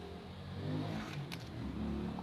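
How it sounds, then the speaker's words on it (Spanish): A motorcycle passes somewhere outside, its engine rising in a faint, droning hum that swells and falls over a couple of seconds against a low background, no voices. "Por aquí pasa una que otra moto"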